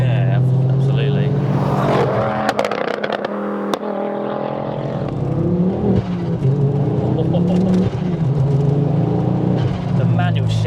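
A Ford Focus RS MK2 hot hatch thrums and burbles on the move, its low engine note running continuously beneath close conversation between occupants inside the car.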